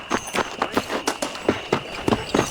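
Horse hooves clip-clopping at a steady trot in the Red Dead Redemption game, about ten crisp, evenly spaced hoofbeats, close and fairly loud over faint background ambience.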